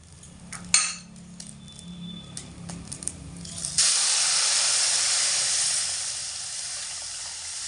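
Warm hot water poured into a pot of sautéed rice and lentils for khichuri, a loud sustained hiss and sizzle after a few light clinks of utensils.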